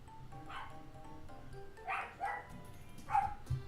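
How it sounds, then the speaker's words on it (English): A dog barking a few times at a distance in a quiet indoor room, short yappy barks spaced out over a soft background hum. "What is she barking at?"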